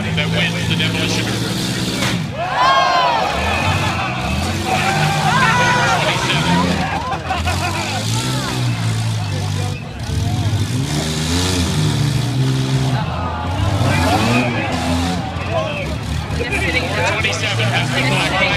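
Minivans running in a demolition derby make a constant loud roar of engines and crowd noise, with an announcer's amplified voice talking over it almost throughout.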